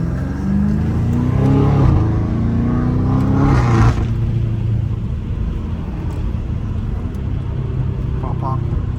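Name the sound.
tuned BMW M5 exhaust popping at low speed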